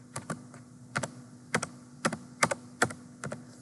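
Quick bursts of keystrokes on a computer keyboard while typing a Linux terminal command, with sharp clustered clicks in short runs and pauses, close and clear over a faint electrical hum.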